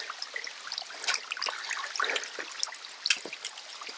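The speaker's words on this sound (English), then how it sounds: "So this is the stream of El Tepeiska river." The mountain stream of the El Tepeiska river in Pirin trickles and burbles close by, a light, irregular splashing and dribbling water sound with no voices.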